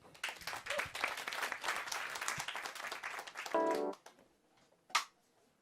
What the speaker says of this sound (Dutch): Applaus voor Tali.